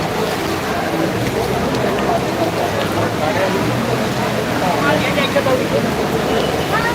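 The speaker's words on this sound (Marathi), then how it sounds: "जबरदस्त पाणी वाहत आहे हे मुंबईमध्ये घाटकोपर शहरात आहे" Fast floodwater rushes through a street in Ghatkopar, Mumbai, after a cloudburst, a dense, continuous roar of churning water heard close and loud, with a person talking over it.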